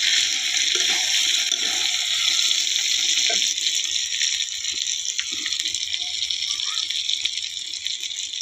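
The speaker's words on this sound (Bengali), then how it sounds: "এবার জল ঢেলে দেবো।" A steady, close rush of water pours into a pot of browned, simmering meat, running continuously with no talk over it.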